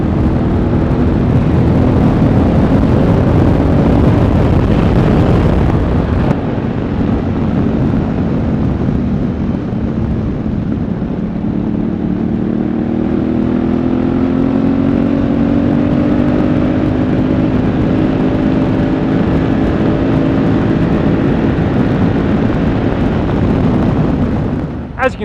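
A Honda Africa Twin DCT motorcycle being ridden, its engine a steady loud drone with rising and falling pitch as it accelerates through bends, wind rush over the top throughout, a brief break near six seconds.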